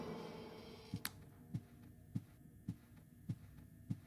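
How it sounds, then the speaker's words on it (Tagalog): In the horror video game Unseen Liminality Beta, a slow, steady heartbeat thumps six times at an even pace over a low ambient hum, with a sharp click near the start. "May narinig akong heartbeat."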